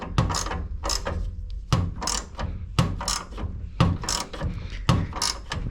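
Wrenches tighten pipe fittings on a water source heat pump, giving close, repeated metallic ratcheting clicks and clunks in uneven bursts.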